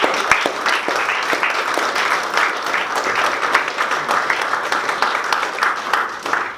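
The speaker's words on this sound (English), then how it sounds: "And Piara, I think you deserve a round of applause and thanks." An audience at a Kick It Out anniversary event applauds, steady crowd clapping holding at an even level throughout with no speech over it.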